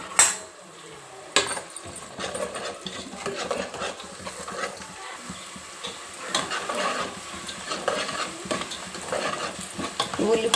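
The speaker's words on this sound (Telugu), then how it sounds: "వంకాయ వెల్లిపాయలు అన్నీ మంచిగా వేగినాయి కదండి" Brinjal and onions with garlic sizzle and fry steadily in a pan, a constant loud crackle punctuated by sharp scrapes and clanks of a spoon stirring against the metal.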